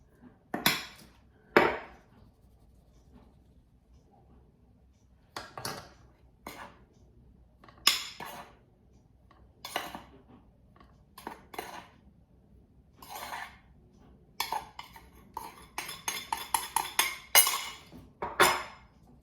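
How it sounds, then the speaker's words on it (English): Flour is stirred by hand into a gluten-free Easter cookie mixture in a bowl, producing scattered scrapes and clinks that come in short irregular bursts, then grow denser and quicker toward the end, close up with no talking. "I'm just going to stir that through then, the flour"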